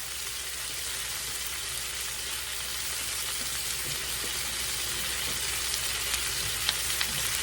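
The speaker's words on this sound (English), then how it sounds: "toss my cabbage in that grease and get it coated in it" Cabbage fries in hot pork chop grease in a skillet, giving a steady, close, loud sizzle with a few crackling pops and no talking.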